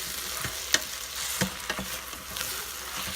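Short ribs sizzle in an Instant Pot, a close steady frying hiss with a few sharp clicks and scrapes of stirring scattered across a few seconds, no talking.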